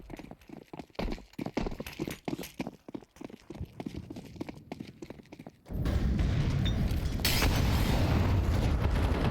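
A grenade goes off in Counter-Strike 2 during a pro BLAST Bounty 2025 finals match: rapid clattering ticks and footsteps give way to a sudden loud blast that rolls into a sustained, dense roar to the end, with no talk.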